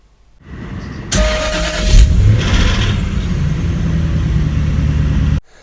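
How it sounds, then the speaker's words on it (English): A Jaguar XKR engine, just rebuilt, cranks over and catches, then settles into a loud, steady running drone with a slight rattly edge until it cuts off. "a rattle on startup, which you'll be able to hear now."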